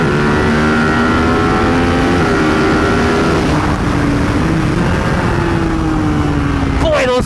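2023 Buell Hammerhead 1190 motorcycle engine revving hard on a racetrack, a steady loud drone with rising and falling pitch through gear changes, close and continuous for the whole stretch, with a sharp climb near the end.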